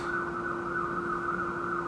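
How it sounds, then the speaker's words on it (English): A steady siren wails continuously in the distance, a constant tone holding without pause. "Siren's always going off in the background."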